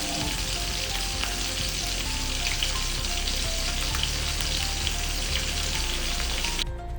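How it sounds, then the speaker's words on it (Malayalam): Red snapper sizzles steadily in hot oil, a loud, dense frying hiss that runs without a break until it cuts off abruptly at the end. "വീട്ടിൽ പോയപ്പോൾ നല്ല ചെമ്പല്ലി വറുത്തത്."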